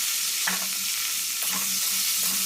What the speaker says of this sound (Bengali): ওই তেলেই ব্রোকলিটাকেও ভালো করে সুন্দর করে হালকা হালকা করে ভেজে নিচ্ছি।